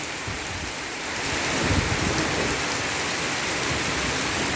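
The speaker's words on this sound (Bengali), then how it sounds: "এই যে বৃষ্টি আর বৃষ্টি" Heavy monsoon rain pours down in a dense, steady roar of drops on surfaces, loud and close, building slightly after the first second and holding without a break.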